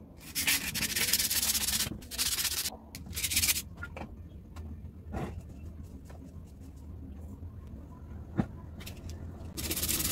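Abrasive paper rubs hard against a small water pump motor's stator, scrubbing off leaked varnish in loud scratchy bursts that pause briefly, then quieter intermittent scraping with a sharp tap near the end.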